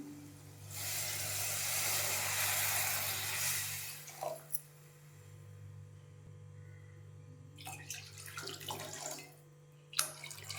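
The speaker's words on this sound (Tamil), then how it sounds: "வாங்க இப்போ தண்ணி ஆட் பண்ணிக்கலாம்" Water pours steadily from a tumbler into a pan of masala for semiya for a few seconds, then gives way to scattered clinks and light handling noises.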